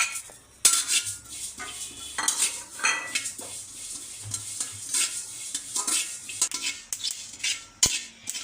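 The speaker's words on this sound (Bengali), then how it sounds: "তো এখন হচ্ছে এই যে সাদা তিলটা ভেজে নেব। আগে এই তিলটা ভালো করে ভেজে নিতে হবে।" White sesame seeds dry-roast in a pan for a village-style potato and pointed gourd bharta, with repeated scraping and clinking of a metal spoon as they are stirred, plus one sharp click near the end.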